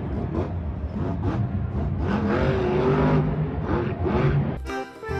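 A toy monster jeep's small electronic engine roar revving up and down, whirring and close, ending in an abrupt burst of different sound.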